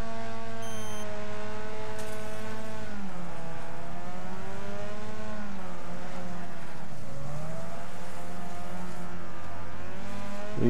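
Race cars at the start of a five-lap race at Vale Falls Circuit in the racing game Wreckfest, engines droning and revving together in a loud, continuous, harmonic roar whose pitch rises and dips as gears change.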